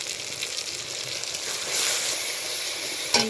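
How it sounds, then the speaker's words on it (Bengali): Ground chilli and turmeric sizzling in hot oil for a Bengali-style fish curry, a steady close hiss with a brief clatter near the end. "এবার আমি লঙ্কার গুঁড়োটাকেও আবার ওই তেলের মধ্যে ভেজে নেবো।"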